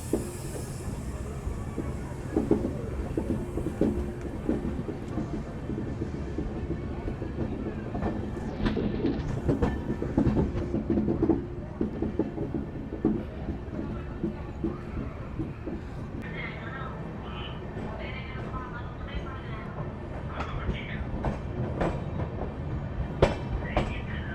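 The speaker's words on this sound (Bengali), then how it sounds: "আমরা এখন ক্রস করছি কাশী স্টেশন।" Amrit Bharat Express train running through Kashi station between Mughalsarai and the Ganges crossing, a steady loud rumble of wheels and carriages with rail clatter and squeal throughout, with a voice talking over it.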